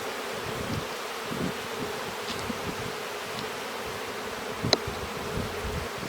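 Honey bees droning steadily at an opened hive during a spring inspection, a dense continuous buzz close by with a few brief higher whines of individual bees passing near.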